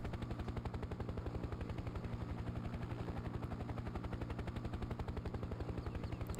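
A Mi-26 heavy helicopter flies in Farming Simulator 2017, its rotor making a fast, even thudding chop over a low engine drone, steady and fairly quiet throughout.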